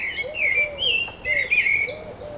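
Birds sing continuously at a campsite dining area, with clear, whistled phrases and repeated lower calls overlapping in a steady, moderately close chorus, no voices present.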